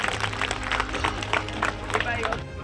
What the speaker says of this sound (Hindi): जोरदार ताली बजा करके प्रदीप जी का स्वागत करिए।